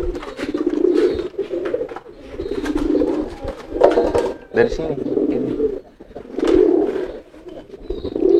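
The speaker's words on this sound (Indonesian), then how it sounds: "Nah ini ada merpati lenje juga nih." Pigeons coo in repeated throaty bursts close by, the rolling calls rising and falling every second or two, with a person speaking briefly amid the birds.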